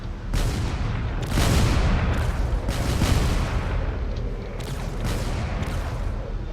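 Heavy video-game cannon blasts hitting a ship boom again and again in a dense, rolling barrage, loud and close, with each shot running into the next.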